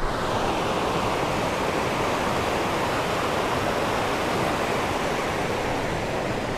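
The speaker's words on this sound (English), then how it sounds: "Look at the river." A river in Montana's Custer National Forest rushes past as a loud, steady, unbroken wash of flowing water, close by and without any voices.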